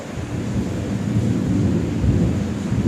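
A thunderstorm with a steady, dense roar of heavy rain and low rumbling thunder, loud and continuous throughout with no voices.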